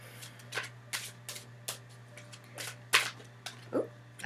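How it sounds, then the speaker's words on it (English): Tarot cards being shuffled by hand during a card reading, a series of soft riffling bursts and flicks close by, spaced unevenly about every half second over a quiet low hum. "Okay, now to shuffle them up."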